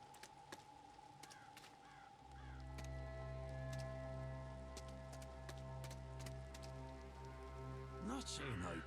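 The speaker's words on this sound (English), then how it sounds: "Oh, it's raining." Rain falling in a video game scene, a dense steady patter under a low ambient drone, with a few honking calls near the end.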